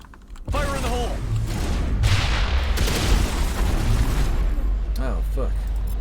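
A grenade blast in a sci-fi shooter game goes off amid loud, dense combat noise, with booming rumble and clatter sustained throughout and voices calling out over it.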